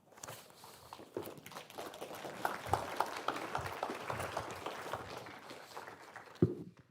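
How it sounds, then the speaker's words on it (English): Congregation applause in a church service, a soft, fairly distant spatter of clapping that swells and continues for several seconds, with a sharper knock near the end. "Okay, that applause was for Edward, right?"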